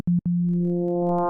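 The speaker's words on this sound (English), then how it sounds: "So we've got a sine wave." A pure FM-synthesized sine wave blips twice quickly, then holds steady as brighter overtones gradually creep into it.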